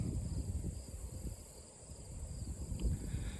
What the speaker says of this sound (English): You can really hear the crickets chirping on the island behind me